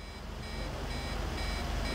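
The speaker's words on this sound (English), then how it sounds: "There's a weird beeping sound coming from the tank." Rapid, continuous electronic beeping from a tank in GTA 5 over a low mechanical rumble, loud and steady throughout, with no talking.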